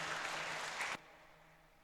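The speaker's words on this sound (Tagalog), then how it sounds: "malakas na palakpak para sa ating Panginoon" A congregation at a Filipino Mass claps loudly and steadily for about a second, then the applause cuts off abruptly into a quiet church hush.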